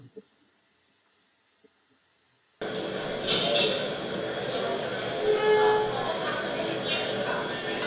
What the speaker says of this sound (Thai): นี่คือเสียงจำลองของฝนตกหนักๆครับและดังมากๆ